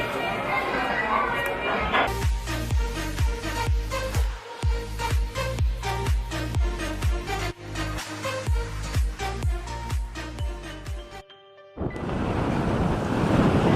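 Rough ocean waves off Miami, Florida, crash and hiss loudly at the start and end, with a rhythmic, musical stretch dominating the middle.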